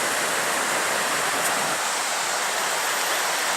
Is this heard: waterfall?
yes